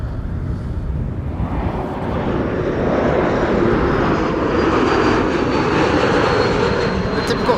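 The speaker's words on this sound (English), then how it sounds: "The typical E2 whistle." An Embraer E2 jet roars steadily overhead arriving at Amsterdam Schiphol Airport, its broad engine rumble swelling after a couple of seconds, with a thin high whistle running through it.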